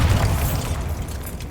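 Bombarda spell blast in the game Hogwarts Legacy, a deep, heavy boom with low rumble that decays over a second and a half.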